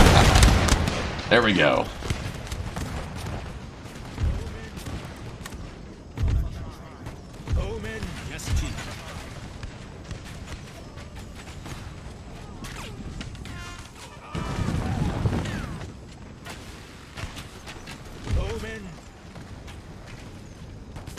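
Army line infantry volley fire in a strategy video game battle, with scattered booming musket and artillery shots and crashing bursts spread through a noisy battlefield, while someone talks briefly over it.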